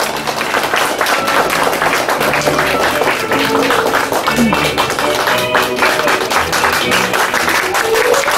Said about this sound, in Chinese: 来宾不要吝啬你们的掌声